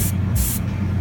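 An airbrush sprays paint onto a 1/64 scale 2002 Silverado model, giving two short hissing bursts of air close to the mic over a steady low background.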